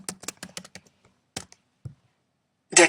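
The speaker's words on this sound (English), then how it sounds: "And I type it in." A quick run of keyboard taps, then a few isolated keystrokes after short pauses, ending with a louder, sharper click-burst. Close and dry, no talking.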